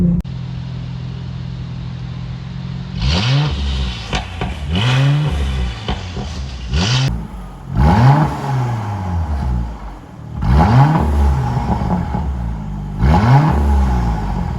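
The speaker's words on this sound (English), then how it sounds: "Listen, the turbos, you can hear the turbos better. And the burbles are so much more frequent and loud." Mercedes C43 AMG with high-flow catted downpipes, turbocharged engine revving repeatedly in rising sweeps, each lift-off followed by crackling exhaust burbles, loud and close.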